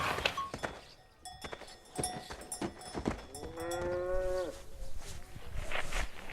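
A cow gives a single drawn-out moo, close and fairly loud, amid scattered thumps and knocks around a farm setting.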